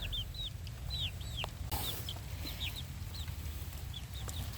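Chickens at a backyard poultry farm cluck and chirp repeatedly in short rising calls over a constant low hum and rumble, with one brief clatter in the middle.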